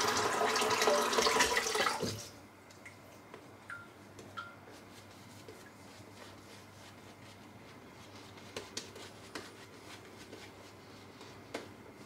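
A running tap rinses a razor handle at a bathroom sink, giving a close, hissing splash for about two seconds before the water shuts off. Faint clicks and small taps follow in a quiet room.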